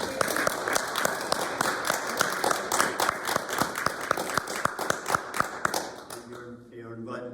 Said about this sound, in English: Another word of applause.